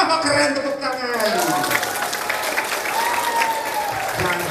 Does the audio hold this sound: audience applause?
yes